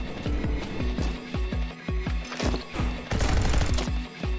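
Enemies firing guns in Neon White, a rapid rhythmic volley of sharp punchy shots, roughly a dozen in quick succession, loud and close with brief gaps between bursts.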